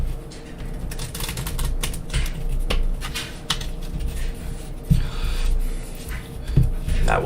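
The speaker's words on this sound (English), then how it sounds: "I'm going to shuffle face-up cards into face-down cards" Playing cards shuffled face-up into face-down by hand during a card magic practice session, giving a busy run of soft riffling clicks and taps throughout, with a voice talking over it.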